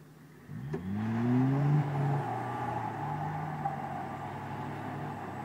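Engines of a UAZ Patriot and a Toyota Land Cruiser 80 strain hard against each other in an off-road tug-of-war. A loud, sustained drone rises in pitch during the first two seconds and then holds steady. No one speaks.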